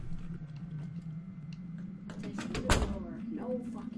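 A door opens with a short thud and mechanical rattle in The Crooked Man horror video game, a single mid-loud event heard under faint background hum while a person talks.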